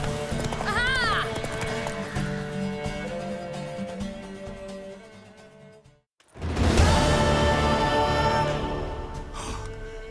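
Rapid hoofbeats of a galloping horse, a mare, with a whinny, a brief pause, then the galloping resumes loudly, with music-like game sounds from The Witcher 3: Wild Hunt layered over it.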